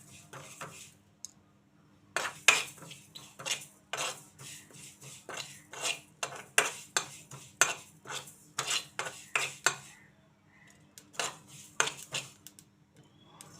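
Sesame seeds roasting in a hot kadai for a bitter gourd curry, giving a rapid run of sharp crackling pops and scraping stirs, near and fairly loud, continuing steadily with brief pauses.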